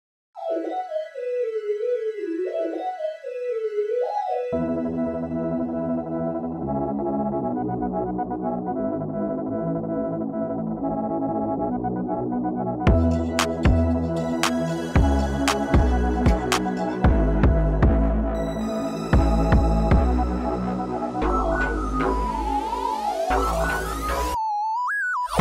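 An electronic hyperpop beat: a warbling pitched synth opens alone, then dense synth chords enter, joined later by punchy heavy bass hits and glitchy high effects.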